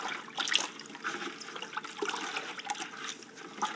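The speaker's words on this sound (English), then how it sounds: "And now I'm just going to give that a stir." Washing soda and borax being stirred into water to dissolve them for homemade laundry detergent, a steady sloshing, swirling liquid sound with small clinks, close and continuous throughout with no talking.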